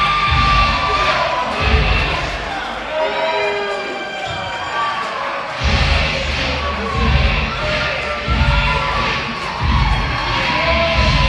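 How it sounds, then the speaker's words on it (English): Wrestling crowd at a live match reacting with loud cheering, shouting and boos, a dense roar that swells and dips throughout. "The crowd does not seem to like the Bambino family very much."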